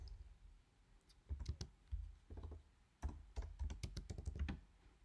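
Code is typed on a computer keyboard in quiet, close bursts of rapid key clicks separated by short pauses.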